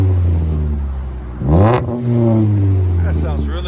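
2007 Pontiac G5 with a 2.2L four-cylinder engine and an exhaust fitted with a Vibrant bottle resonator, idling with a deep steady drone, then revving up sharply in a rising blip before settling back, under faint background talk.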